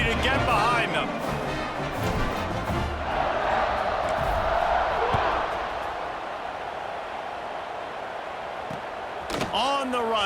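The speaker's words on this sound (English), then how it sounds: "They're set to kick it off, and this crowd now ready to get behind them." A stadium crowd in a college football video game, NC State against Wisconsin on senior day, roars steadily at kickoff, a loud dense wash of cheering that swells and holds for about ten seconds.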